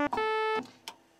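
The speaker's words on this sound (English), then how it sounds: "We also have a pulse wave whose width can also not be adjusted." A Korg MS-20 synthesizer's second oscillator plays a fixed-width pulse wave, heard as one brief, steady, buzzy tone of about half a second, bracketed by short clicks and a faint blip.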